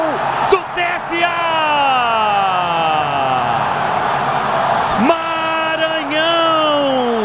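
A stadium crowd of CSA supporters roars after a goal in a Brazilian league match against Goiás, a loud sustained wall of cheering and whooping with a commentator's drawn-out shout over it.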